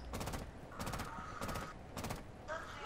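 Video game gunfire rattles in four short, loud automatic bursts at a fairly even rhythm, with brief gaps and a fainter mechanical tone between them.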